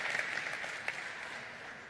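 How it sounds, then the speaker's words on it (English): Audience applause for fans at a realme GT 7 Series global launch event, a steady, moderately distant wash of clapping lasting a couple of seconds. "Let's have applause for them."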